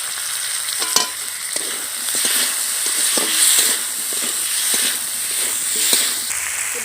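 Parshe fish, potatoes and eggplant sizzle in a pan as green chili paste goes in, with a steady hissing fry and occasional spoon scrapes and taps against the pan.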